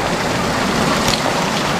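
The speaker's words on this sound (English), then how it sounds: "That's how you know I'm out in the rain." Steady rain pours outdoors in a heavy downpour, a dense, even hiss of drops close by with no voices.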